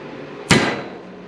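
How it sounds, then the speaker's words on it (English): One sharp metallic tap of a small, very sharp punch struck to mark a hole center, crisp and close, with a short ringing decay in an otherwise quiet room. "I've got this very sharp little punch."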